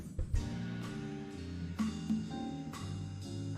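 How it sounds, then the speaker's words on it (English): Jazz music played live at an elementary school concert, a soft ensemble of warm sustained horn-like tones over a low bass line with occasional bright accents, fairly quiet and heard from a distance. "this is the sound of jazz music"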